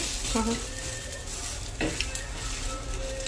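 Food fries in a little oil in a pan and is flipped over. A steady close sizzle runs throughout, with a couple of brief scraping, clinking utensil touches against the pan, and no talking.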